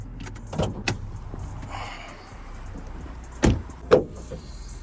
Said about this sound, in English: Amazing Mercedes hood, goes all the way up.